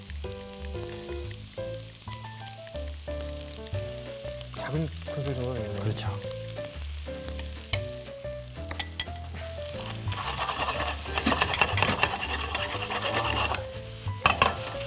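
Shrimp fried rice sizzles in a pan as it is stir-fried, with scraping and tossing growing busier toward the end, under background music and occasional talk.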